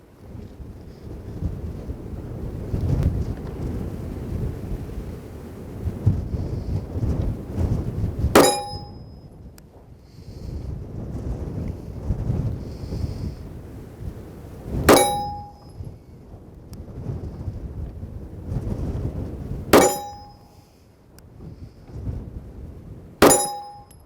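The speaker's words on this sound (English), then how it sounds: "let's shoot a group on the steel." Rifle shots ringing off a steel target at 20 yards: four sharp metallic impacts, spaced several seconds apart, each clanging over a steady breezy outdoor background.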